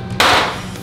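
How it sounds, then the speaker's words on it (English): One sharp, loud whack as a hammer smashes into a big bar of chocolate, a single close impact that rings out briefly and fades. "This hammer is only used to smash this big bar of chocolate."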